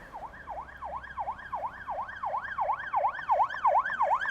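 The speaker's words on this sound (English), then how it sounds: "The unmarked police car from the opposite side is coming through that one." Unmarked police car siren on a 20 mph road, a rapid rising-and-falling wail repeating about three times a second, growing louder as the car approaches, with faint traffic noise below.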